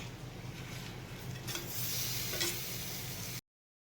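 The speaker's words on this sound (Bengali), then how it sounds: "পেঁয়াজটা লাল হয়ে গেছে এবার মাংসটা চিকেনটা এর মধ্যে দিয়ে দেবো" Chicken pieces are added to onions that have browned in a hot pan, making a steady close sizzle and frying hiss with a few stirring scrapes before the sound cuts off abruptly.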